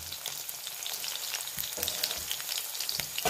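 Cumin seeds and green chillies sizzle in hot oil, making a dense, steady crackle close by with light stirring scrapes and no voices.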